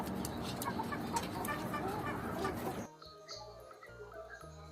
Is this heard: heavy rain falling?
no